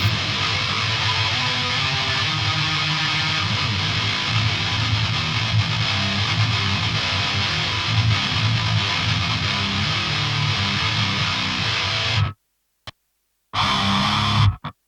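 A heavily distorted electric guitar through an HM2-style tone playing a thick, buzzing, saturated riff that cuts out abruptly near the end, then briefly returns.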